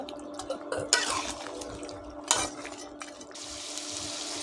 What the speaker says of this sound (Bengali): আলু দিয়ে দিলাম। আবারও ভালো করে নেড়ে দেব।